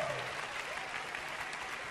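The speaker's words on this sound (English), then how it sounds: "Give them a big clap." A church audience at an Easter service applauds its drama team with a steady patter of clapping that sounds somewhat distant and soft, along with faint crowd murmur.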